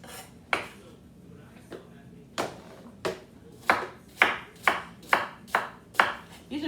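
A knife chops Gala apples in a series of sharp thuds, sparse at first and then coming in a quicker regular rhythm, close and clear, with nobody speaking.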